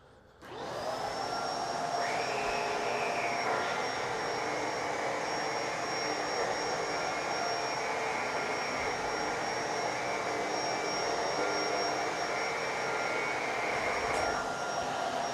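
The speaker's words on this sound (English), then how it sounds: "As you can see, the vacuum is actually smearing the pet hair back onto the carpet." A Bissell Pet Hair Eraser Liftoff vacuum works over carpet covered in pet hair, its motor switching on to a loud, steady whine with a high tone that holds for over ten seconds.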